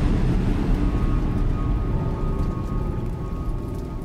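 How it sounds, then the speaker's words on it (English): Steady heavy rain pours down with a low rumble of thunder rolling underneath in the Silent Hill 2 video game, loud and continuous without any voices. "That's probably the thunder in this realm."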